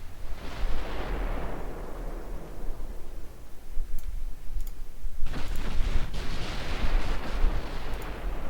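Heavy battleship gunfire and shell impacts in the naval warfare game Ultimate Admiral Dreadnoughts, a continuous roar of rumbling booms with sharp cracking hits that swell and intensify toward the end, no voices.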